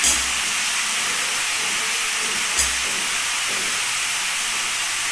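Spices and potatoes fry in a pan while fish curry is prepared, giving a steady loud sizzling hiss throughout with a brief louder burst midway; no talk.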